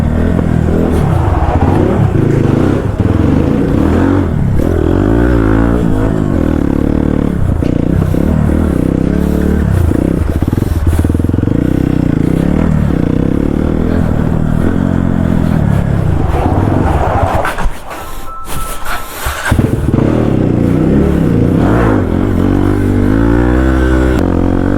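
A vehicle revs hard and loud, close by, as it accelerates, brake-slides and drifts in a circle. The engine note rises and falls with clattering and scraping, dips briefly near the end, then roars back.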